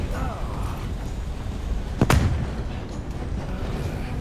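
A single sharp gunshot in Red Dead Redemption 2, a loud crack with a brief rumbling tail standing out once over steady background noise and ongoing talk.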